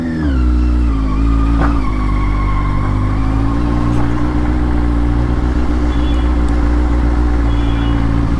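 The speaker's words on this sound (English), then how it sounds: "This is how the bike is sounding." A Benelli TNT 600i motorcycle with its stock exhaust idles steadily up close, a loud, even four-cylinder hum holding constant for the whole stretch.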